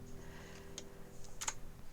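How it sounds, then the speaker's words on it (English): A very loud mechanical keyboard gives a few sharp, sparse key clicks in a quiet room, close to the microphone. "I do have a mechanical keyboard"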